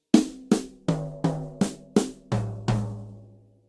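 Drum fill played as eight evenly spaced, ringing hits that step down across the drums from high to low toms, each decaying before the next, with no talk.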